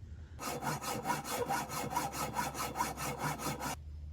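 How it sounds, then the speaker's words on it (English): A metal threaded rod being hand-sawn in quick, steady back-and-forth strokes, a dense rasping rhythm lasting about three seconds, close and fairly loud with no talking. "use that as a marker of where to cut this threaded rod"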